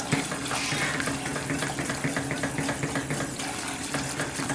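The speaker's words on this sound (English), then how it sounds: "rinse my hand off while I'm over here" Tap water runs steadily into a kitchen sink as a hand is rinsed beneath it during gravy making, a close, continuous splashing with small shifting gurgles and no voice.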